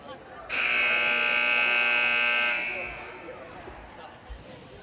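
A loud, harsh electronic buzzer blares for about two seconds in a girls volleyball gym during a Durfee versus Brockton match, then cuts off, leaving crowd murmur and scattered footsteps.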